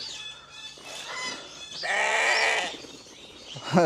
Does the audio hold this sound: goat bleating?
yes